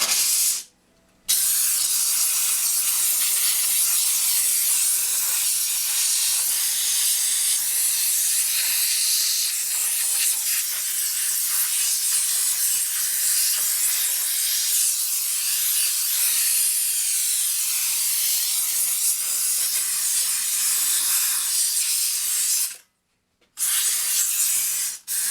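A steam cleaner blasts a motorcycle wheel in a loud, sustained hiss, broken by a short pause near the start and another near the end.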